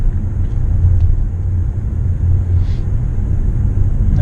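Mitsubishi Outlander PHEV driving on the road in B5 regenerative mode, heard from inside as a steady low road and drivetrain rumble throughout with no voices.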